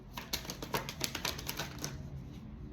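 A deck of cards falling and spilling down, a quick run of light, crisp taps and flicks in uneven rhythm, close and quiet, then settling into near silence.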